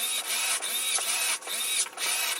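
Steering servo in a Tamiya XV01 RC car sweeping back and forth, a series of short buzzing whirs in a steady rhythm with tiny gaps between each movement, close and fairly quiet.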